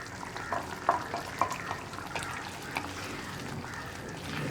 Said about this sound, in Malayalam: അപ്പോൾ നമ്മുടെ ഗ്രേവി നന്നായിട്ട് തിളയ്ക്കുന്നുണ്ട്.